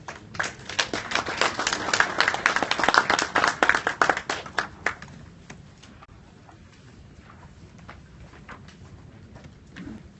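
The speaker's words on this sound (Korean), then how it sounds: "그럼 박수 한번 주십시오." A seminar audience claps for a speaker being introduced at a cable industry conference, a brisk round of many hands lasting about five seconds before fading into quiet room tone.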